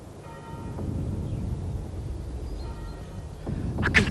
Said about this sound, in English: It's the bells.